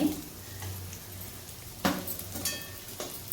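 Ingredients for Telugu ginger pachadi fry in oil in a pan. A soft, steady sizzle runs under occasional scraping and clinking stirs, with one sharper knock of utensil against the pan, and no clear talk.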